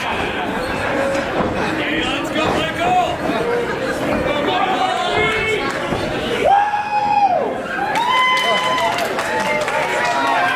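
A wrestling crowd at the Rec Room keeps up a steady roar of chatter and cheers throughout, with a commentator's voice running over the noise.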